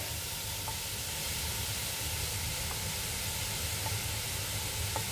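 Garlic, onion, spices and coriander sauté in a pan, giving a dense, even close hiss and sizzle with a few faint clicks and no talking.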